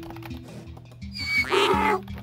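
A quagga from the Minecraft Fossil and Archeology mod gives a short, bright, horse-like neigh midway through, over soft blocky in-game background sounds.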